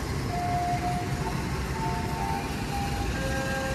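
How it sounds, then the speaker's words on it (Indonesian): A freight train pulls onto a track at Karawang station with a steady, broad rumble that is close and continuous, and faint high tonal squeals drift in and out over it. "Ini ada kereta angkutan barang masuk jalur sana"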